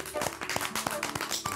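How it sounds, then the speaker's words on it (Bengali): Group clapping for the winners of a game on a Bengali cooking game show, a short burst of rhythmic hand claps mixed with lively chatter in the room. "তোমাদের সকলের জন্য একটা জোরে হাততালি"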